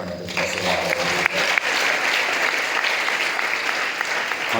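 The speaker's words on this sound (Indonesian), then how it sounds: "Tepuk tangan untuk semua." A crowd claps and cheers at a motivational seminar in an Islamic boarding school in Banten, Indonesia, dense applause swelling and sustained throughout, with a few voices faintly audible at the start.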